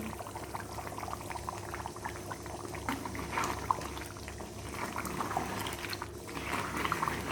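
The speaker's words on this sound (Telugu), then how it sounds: "ఓ చక్కగా ఉడికిపోతుంది కదా నూనె కూడా పైకి వచ్చేసింది" Crab curry boils on the stove in a steady, close, continuous bubbling and popping simmer with no talk.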